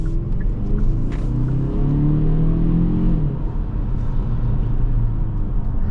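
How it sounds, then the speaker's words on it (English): Turbocharged four-cylinder engine of a 2023 Kia Stinger GT-Line accelerating: a steady, loud engine drone that climbs in pitch through the revs, heard from inside the car. "this turbo 4 has plenty of torque, plenty of get up and go, and it pulls pretty much through the entire rev range"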